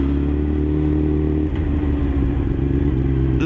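A Honda Fireblade CBR954RR sportbike is ridden at steady speed, its engine a loud, constant drone close by that shifts pitch once partway through, with wind and road noise and no talk.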